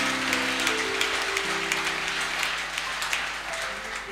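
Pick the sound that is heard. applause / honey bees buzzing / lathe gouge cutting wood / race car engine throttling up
applause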